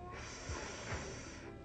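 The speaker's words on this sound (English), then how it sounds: "the topic of the day is me sniffling" A person sniffles twice in quick succession, short and soft, over a faint steady background hiss.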